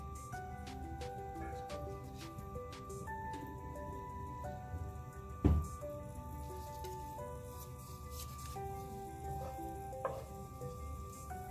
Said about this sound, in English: You can see cumin seeds are now simmering in the oil and butter.